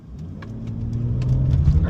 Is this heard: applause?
no